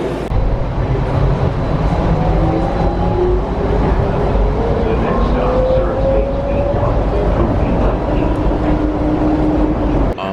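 Continuous low rumble inside a moving airport shuttle train, with a rising electric motor whine gliding upward over the steady rolling noise.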